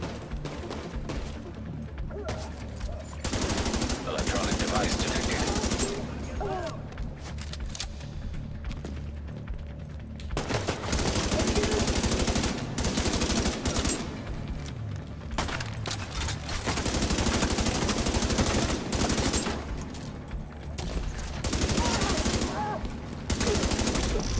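Gunfire in a video game set during a rampage through the Capital Wasteland, with long loud stretches of rapid automatic shooting broken by short quieter gaps, and a voice talking at times.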